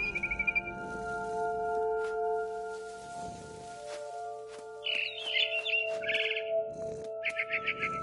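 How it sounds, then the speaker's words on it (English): A barn swallow chirping in the video game What Remains of Edith Finch, short bright twittering bursts in the second half over a steady ambient musical drone. "Then I heard chirping outside my window. It was a barn swallow going back to her nest."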